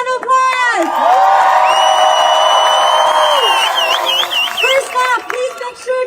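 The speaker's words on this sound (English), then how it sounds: "Give them a round of applause." At a Palestine solidarity rally in St. Paul, Minnesota, a crowd cheers and whoops loudly with sustained shouting and scattered applause, close and energetic, fading toward the end.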